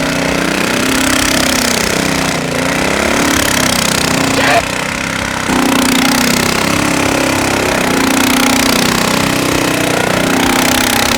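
Predator Ghost mini trike with its small engine running hard, a loud continuous buzzing drone with rising and falling pitch and a brief dip midway, heard up close throughout.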